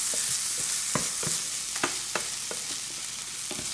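Tofu scramble frying in a pan while a utensil folds it through, giving a constant close sizzle broken by sharp scrapes and taps at irregular intervals, with no voices.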